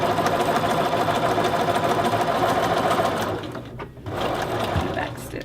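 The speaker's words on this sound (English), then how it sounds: "Now this time it will be sewn at the full 5/8." A sewing machine stitches a 5/8 inch seam in fabric, a steady loud rapid mechanical whir for about three seconds that then drops and falters briefly before running on again, close up with no voices.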